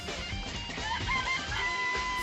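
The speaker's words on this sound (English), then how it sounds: "It's a chicken coop. There are chickens in it." Chickens in a coop cluck and chatter steadily in a dense, busy flock, with a faint crow-like call threading through and no voices.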